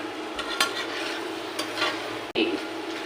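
Bean-leaf paturi being stirred in a frying pan, a steady scraping stir over a soft sizzle with a few sharper scrapes, close and alone.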